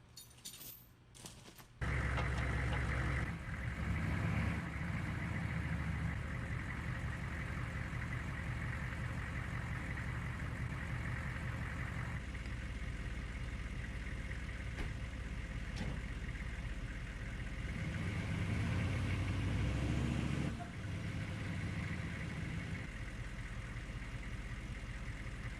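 A truck engine starts and then runs steadily under load for about twenty seconds while tow chains try to pull a bush from the ground, with the engine note swelling in places and faint clinks of chain.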